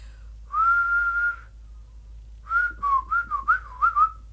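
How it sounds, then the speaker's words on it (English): A person whistles nearby: first one long sustained note, then after a pause a quick series of short, wavering, rising and falling notes. "Yes, I can. I can whistle."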